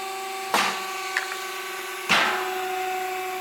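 Stainless steel vertical hydraulic press built by Kraft Foods, driving cutting wires down through soft blocks of cheese, gives two sharp mechanical thumps about a second and a half apart over a steady machine hum, with a faint click between them.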